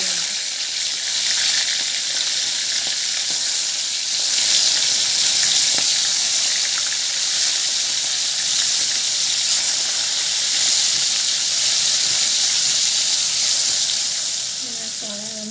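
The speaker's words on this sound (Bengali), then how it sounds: "এবার এর মধ্যে আমি চিংড়ি মাছগুলো দিয়ে হালকা ভেজে নেব।" Prawns dropped into hot oil in a kadai, giving a loud, steady, close hiss and crackling sizzle that holds throughout, with no clear speech.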